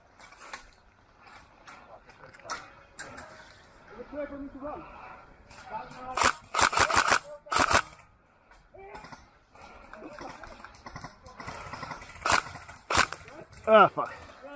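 Airsoft guns fire inside an enclosed labyrinth maze, with sharp snapping shots in quick bursts, some rapid strings, between quieter stretches where people talk.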